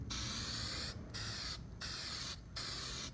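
A cheap spray paint can hisses in four short bursts with brief gaps between them, lightly coating the edges of a routed wooden sign, up close and alone.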